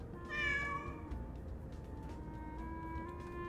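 A single clear cat meow from the video game Cat Secretary rises and falls near the start, then a low steady hum continues underneath.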